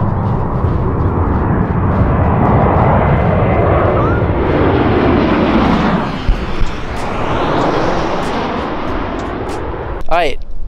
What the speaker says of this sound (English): His place is right above the airport. There's literally planes flying right.